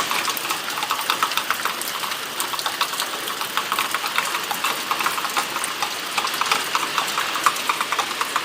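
Heavy rain falling steadily since morning, a dense, continuous hiss with fine patter throughout, loud and close with no voices.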